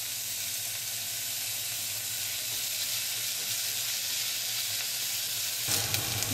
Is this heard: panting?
no